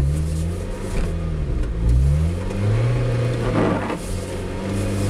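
A Lotus Exige drifting on snow at constant throttle, its engine droning steadily with rising and falling pitch sweeps as the revs shift, loud and continuous with no speech.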